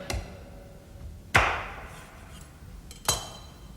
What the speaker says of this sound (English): we're going to cut the end of the drumstick bone off, approximately a ½ inch